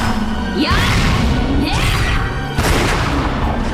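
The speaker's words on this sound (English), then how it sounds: "they got gunshots for that" Heavy, booming blasts crash in repeatedly with whooshing sweeps, loud and close, like a barrage of stylized video game gunfire effects with no talking.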